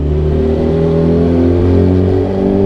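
Car engine revving steadily and loud up close as the throttle is held down, a droning hum with a steady pitch and no talk.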